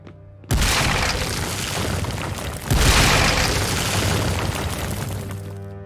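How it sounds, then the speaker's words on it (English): A loud explosion erupts in the Lovecraft's Untold Stories video game, a sharp boom followed by a second blast a couple of seconds later, both with long rumbling tails that fill the space. "Oh, by the way, that explosion also does damage."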